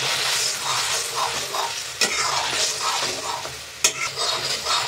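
Fried potato balls being stirred with salt in a pan make a close, steady sizzle with soft scraping stir strokes and two sharp knocks of the spoon against the pan; no one speaks.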